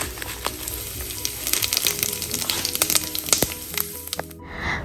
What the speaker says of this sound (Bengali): কড়াইতে এখানে আমি একটু জিরে ফোড়ন দিয়ে দেবো সামান্য